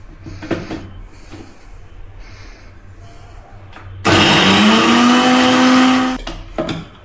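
A kitchen mixer grinder whirs loudly for about two seconds as it grinds ginger, garlic, green chillies and coriander, a harsh motor roar rising in pitch, surrounded by quieter clatter before and after.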